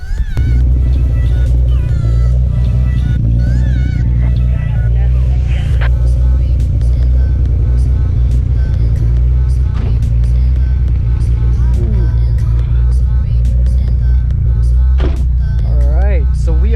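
A 600 hp Nissan 300ZX Z32 drives on the road, its engine a loud, constant close-up drone with deep rumble and rising and falling revs for the whole stretch.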